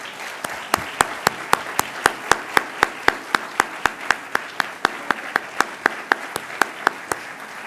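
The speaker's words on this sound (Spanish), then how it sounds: "Un fuerte aplauso para la doctora Pilar." Audience applause for a doctor at a pediatrics session, heard as steady, evenly spaced sharp claps that continue without talk for several seconds.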